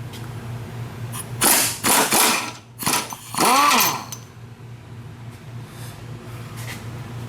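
Ratchet and wrench working 17mm motor mount bolts on a 1998–2002 Nissan Quest: a few quick clicking ratchet bursts and metallic scraping up close, then quiet.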